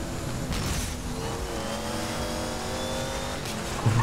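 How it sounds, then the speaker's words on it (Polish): A car accelerating in the racing video game Need for Speed Most Wanted, its engine revving with a steadily climbing tone, continuous and close throughout with no talking. "ale ten samochód ma przyspieszenie"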